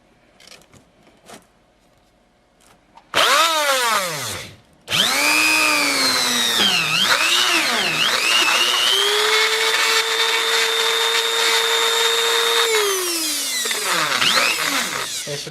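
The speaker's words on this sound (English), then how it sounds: "so now we've got those holes drilled" A power drill bores holes in a skull kit, loud and close. Two long whining runs have the pitch sagging and rising under load, separated by a brief pause, with faint taps beforehand.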